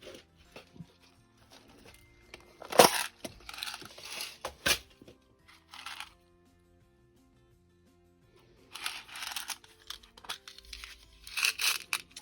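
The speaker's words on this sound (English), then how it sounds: "And every little bit that I use will get snapped off." Small pieces of fused-art glass snapped off by hand while cutting squares and bands for pieced snowflake ornaments, giving scattered sharp crackling snaps with quiet gaps between bursts, close and fairly soft.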